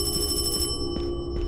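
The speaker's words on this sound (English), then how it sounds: "Don't be ringing phones" An old-fashioned electronic telephone ring sounds in the horror game ParanormalHK. It opens with a rapid trilling ring that stops, followed by two short, fainter rings over a low, droning game ambience.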